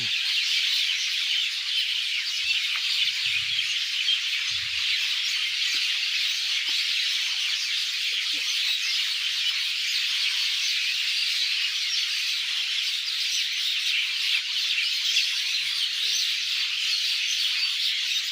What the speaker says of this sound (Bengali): এত কিছু কিছু বিচি করছে চড়ই শালেকের ঝাঁক